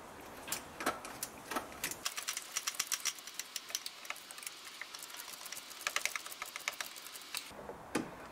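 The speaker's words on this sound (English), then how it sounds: "with that bolt loosened" A wrench working on the hard-to-reach alternator belt bolt of a 1988 Mercedes 190E gives a quick run of close, dry ratcheting clicks and ticks, denser at the start and end.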